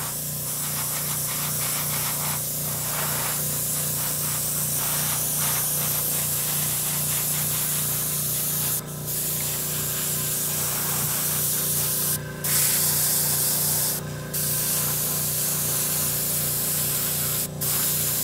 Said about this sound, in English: I'll spray paint the other exhaust system